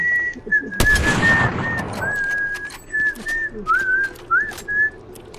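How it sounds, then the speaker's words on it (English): A person whistles a series of short, high melodic notes, some rising and sliding, close by, with a sharp crackling burst early on and no talk. "Can you stop whistling in our ears,"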